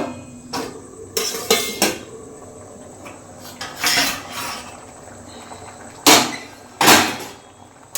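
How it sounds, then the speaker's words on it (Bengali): A metal lid lifted off a cooking pot of ghugni made with goat meat and fat, a few sharp clanks and clatters of metal on metal separated by quieter pauses. "এবার আমি ঢাকনাটা খুলব।"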